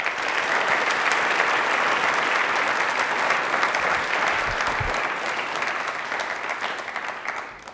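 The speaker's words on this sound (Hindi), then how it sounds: "ताली एक बार हो जाए।" Loud, sustained applause from a large audience, dense and continuous, tapering slightly at the end.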